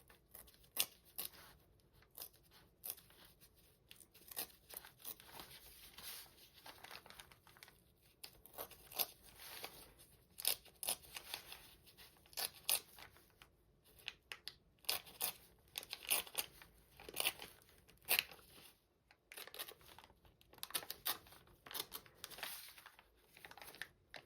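Kooky paper torn by hand for a junk journal, a string of dry ripping and crinkling bursts at close range, irregular and fairly quiet, with no talking.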